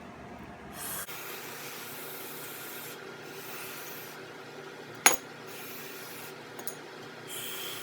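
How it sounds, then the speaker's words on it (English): Aerosol cleaner is sprayed onto a motorcycle carburetor slide assembly during a rebuild, giving a steady close hiss that runs through the clip with brief breaks, plus one sharp click midway. "Now just spray down your slide assembly."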